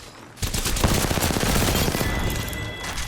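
Gunfire in Apex Legends: a dense, loud burst of rapid shots that starts abruptly and keeps rattling without a break for several seconds, close and harsh.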